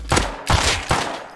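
Double-barrel shotgun blasts in the survival game Rust, heard as three loud, booming shots about 0.4 seconds apart, each with a sharp crack and a rumbling tail, and no talk.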